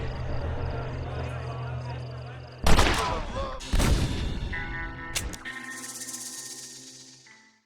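Gunfire in the Western game Red Dead Redemption, with two loud booming shots a second apart followed by a further sharp crack and a ringing tail, under music and voices.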